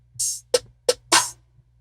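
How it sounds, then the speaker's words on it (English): A short trap drum pattern made in FL Studio 12.3: a hissy hi-hat, two sharp snare hits, then a longer hit mixing snare and open hat, sparse and up close. "It sounds like this together."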